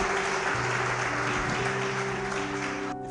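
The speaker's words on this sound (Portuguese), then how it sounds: "Aplaude aí, crente." A congregation at a church service claps steadily, a dense, even wash of applause with a sustained organ-like tone droning underneath.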